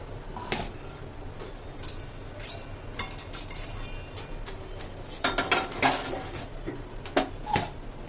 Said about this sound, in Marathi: मी ह्याला काढून घेते मिक्सरच्या भांड्यात